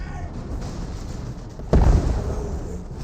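A grenade launcher explosion from the Dawn of War 2 video game: one loud, deep boom bursts out partway through over a steady rumble of battle noise, then slowly fades.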